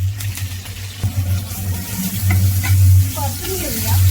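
Thecha sautéing in hot oil with hing, cumin and curry leaves, a loud close sizzle broken by spatula scrapes and stirring clatter, alone without speech.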